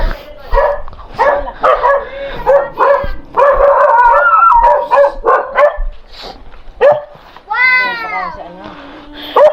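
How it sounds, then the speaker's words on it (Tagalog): Dog barking and yipping in short repeated bursts nearby, mixed in with people talking over and between the barks. "Hindi ba gagalawin na aso to?"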